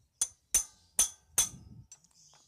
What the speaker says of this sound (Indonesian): Gunakan palu untuk memukul kunci T bagian belakangnya